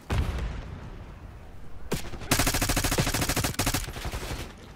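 Rapid bursts of automatic gunfire in Call of Duty: Black Ops 6, loud and close, with a sharp opening shot followed by sustained rattling volleys over a constant battle din.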